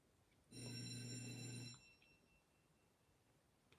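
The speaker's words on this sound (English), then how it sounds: "Somebody's ringing the bell." Doorbell at a home rings once: a bright, electronic, buzzing chime that is steady for about a second, then stops, leaving a quiet room.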